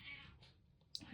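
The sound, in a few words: domestic cat meowing in the background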